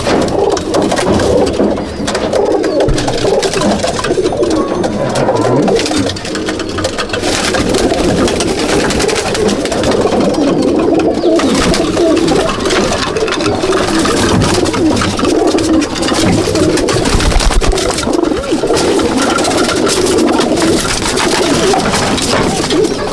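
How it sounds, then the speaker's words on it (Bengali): Many pigeons coo steadily in an Andhra and Malwai pigeon loft, a dense, continuous murmur of overlapping calls that stays close and fairly loud throughout, with no talking. "এই দেখুন সব পায়রা"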